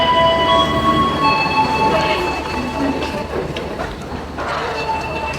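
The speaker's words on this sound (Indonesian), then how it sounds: "Ini dia kereta feeder yang tadi saya naiki dari Padalarang menuju stasiun Bandung" A feeder train from Padalarang pulls into Bandung station, a loud continuous rumble of wheels on rails with high metallic squeals and tonal whines running throughout.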